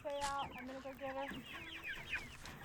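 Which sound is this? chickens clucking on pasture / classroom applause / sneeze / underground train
chickens clucking on pasture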